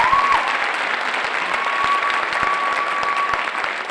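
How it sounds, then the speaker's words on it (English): Applause from the audience at the 2014 Miss Spartanburg and Miss Lyman pageant greets the judges and emcee, a steady, sustained roar of many hands clapping throughout, with a faint tone humming beneath it. "Let's give them all a nice round of applause"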